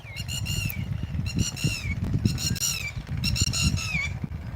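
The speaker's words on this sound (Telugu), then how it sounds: "ఈ పక్షులు సౌండ్లు" Repeated bursts of shrill, harmonic bird calls ring out in quick clusters over a busy, rumbling outdoor background in green farm fields in the evening.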